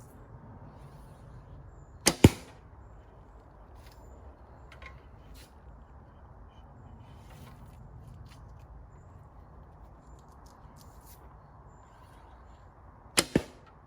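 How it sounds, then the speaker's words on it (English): Wooden blunt arrows with fletchings whiz past after leaving the bow in woodland, giving two brief sharp swishes, one near the start and one near the end, against a quiet outdoor background. "maybe try and catch the sound of the fletchings as they whiz by"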